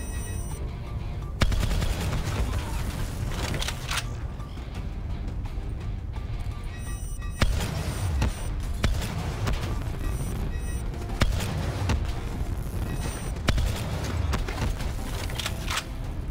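Dense, continuous weapon fire from Call of Duty Black Ops III, with rapid bursts and occasional heavier booms layered into a loud, unbroken battle din.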